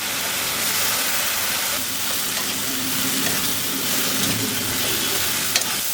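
Shrimp frying in hot oil with tomato paste and nigella seed paste in a home kitchen, giving a loud, steady, close sizzle that runs without a break, with no talking.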